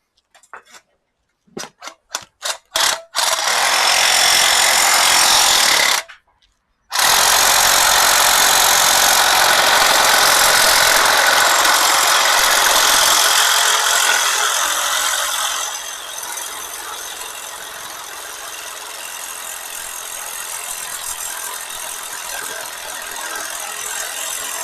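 A Sawzall reciprocating saw cuts through a metal part during an FE3 turbo engine swap into a Mazda B2200. A few short starts lead into loud, sustained buzzing cutting, which pauses briefly and then continues more softly.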